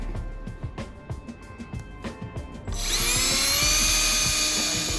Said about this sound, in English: Pull your screws from earlier and just drill them onto the marks you've made.